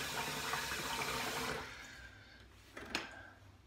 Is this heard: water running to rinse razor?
yes